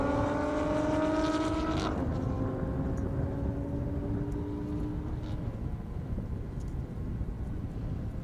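Drag racing cars, including a Toyota Supra, run at an airport strip, a loud engine whine rising in pitch then cutting off, followed by a distant fading rumble.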